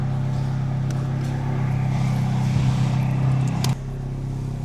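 A small 1.4-litre car engine idles steadily with a low, even hum, rising slightly before dropping back abruptly near the end.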